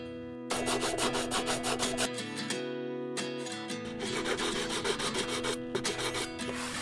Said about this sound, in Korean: 다시 면을 깎아서 모자의 사이즈를 줄여주었습니다